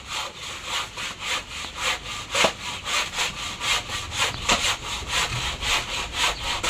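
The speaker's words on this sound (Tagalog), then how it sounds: "puputulin na po niya. Bago yata yung lagari." A new hand saw cuts through wood during house construction, its steady back-and-forth strokes rasping in an even rhythm, close and loud, with no voices.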